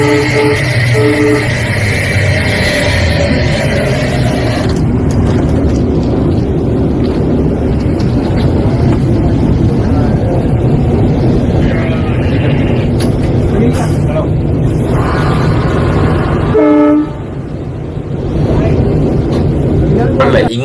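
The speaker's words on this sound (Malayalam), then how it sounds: "ട്രെയിൻ ഇത്രയും വലിയ ട്രെയിൻ കൃത്യസമയത്ത് ബ്രേക്ക് ചവിട്ടി നിർത്തി" A train in India rumbles steadily close by, braking to a stop, with a loud, continuous roar and a couple of horn blasts, while a voice talks over it.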